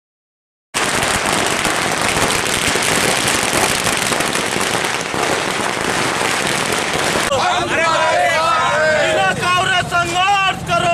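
Dense, rapid crackling of firecrackers exploding continuously and loudly at a celebration in Balaghat, later joined by a crowd of voices shouting and cheering.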